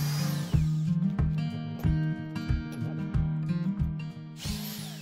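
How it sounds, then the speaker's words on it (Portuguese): A power drill with a slightly bent bit bores a hole in wood to make a pigeon call. Its whining motor drones up close, with a series of grinding surges as the bit bites in. "Vou tentar furar aqui mostrando para vocês."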